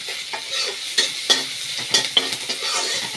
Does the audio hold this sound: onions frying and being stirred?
yes